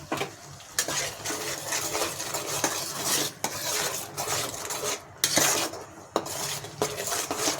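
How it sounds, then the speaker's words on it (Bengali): A spoon stirs curry in a pan over a low gas flame, with repeated metallic scrapes and clinks against the pan over a soft background sizzle, close and uneven in rhythm. "কিছুক্ষণ একটু গ্যাসটা কমিয়ে একটু নাড়াচাড়া করতে হবে"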